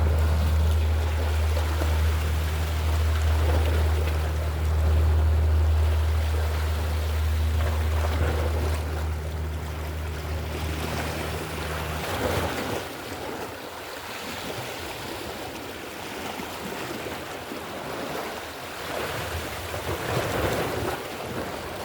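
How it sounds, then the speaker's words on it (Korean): Waves from a passing boat wash against the shore at a fishing spot, a continuous broad rush of water with wind noise, a low engine drone at first that fades midway. "파도 소리 들리지요?"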